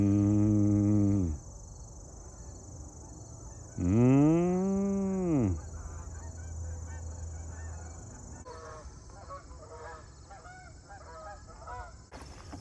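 Canada geese honk loudly and close by in two bursts of harmonic calls, followed by quieter rustling and scattered fainter honks, with no speech.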